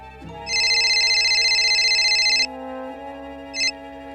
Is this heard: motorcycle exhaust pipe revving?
no